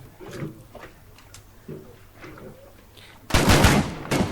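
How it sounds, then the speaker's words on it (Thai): Gunfire at a defended base in the video game State of Decay 2, with faint scattered shots early on and then a loud, dense burst of rapid fire near the end. "คนที่บ้านมันยิงยับเลยว่ะ ซอมบี้ผ่านไม่ได้เลย"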